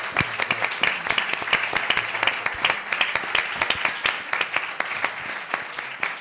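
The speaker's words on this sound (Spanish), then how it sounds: "aplauso." Applause from a modest audience closing a conference session on administrative reform, with distinct individual claps audible in a steady rhythm rather than a dense roar, fairly close and unbroken by talk.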